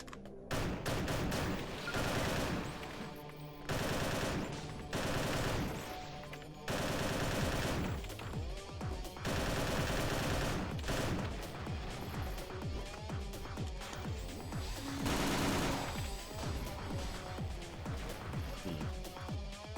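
An upgraded machine gun fires in the game Perilous Warp with dense, continuous rapid shots and crashes, loud throughout, mixed with game sound effects and music.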